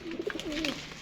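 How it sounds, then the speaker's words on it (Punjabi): A racing pigeon named Lal Pari coos close by, a few soft throaty rolling calls in quick succession, alone without talk. "ਇਹ ਕਬੂਤਰ ਹੈ ਮੇਰਾ ਜਨਾਬ ਲਾਲ ਪਰੀ"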